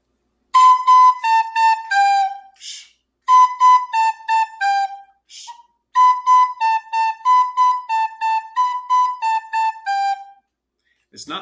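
Recorder playing a simple practice exercise in a music lesson: clear, bright repeated notes in short phrases separated by brief pauses, close and loud with no talking.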